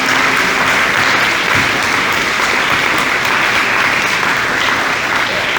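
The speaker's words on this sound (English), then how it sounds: "So they deserve a huge round of applause for that" Loud, dense applause from a wedding reception crowd after toasts, steady clapping filling the room without a break, no speech over it.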